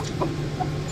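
Farm chickens clucking, with a couple of short, soft clucks over a steady background hum in a brief moment, no voices present.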